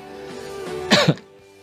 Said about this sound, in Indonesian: Batuk deh.